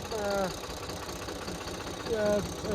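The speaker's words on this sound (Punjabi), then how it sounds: "ਟਰੈਕਟਰ ਇਹ ਤੇ ਰੜਾ ਚੱਲਦਾ ਜੀ ਬਹੁਤ ਰੜਾ" A tractor pulling a Field King subsoiler runs with a steady mid-pitched engine drone and knocking throb, held under a man's speech across the whole stretch.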